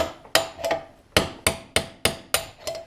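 Sharp metal-on-metal hammer blows drive a large 3/8 punch against a steel shock bushing sleeve on a Honda 400EX ATV, about eight close, loud strikes in an uneven rhythm with brief ringing between them.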